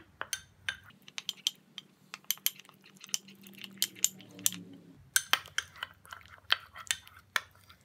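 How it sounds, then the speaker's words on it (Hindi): Aloe vera gel being mixed into a skin paste in a small bowl: a spoon taps and clinks sharply against the bowl in quick, irregular strokes, close and clear, with no talking. "इन सब चीज़ों को मिक्स कर लेंगे।"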